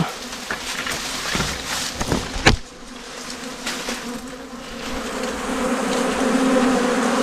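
Bees swarm around their nest outdoors in the Thai countryside, a dense, steady buzzing close by with individual insects passing near, accompanied by faint rustling and a sharp handling knock partway through.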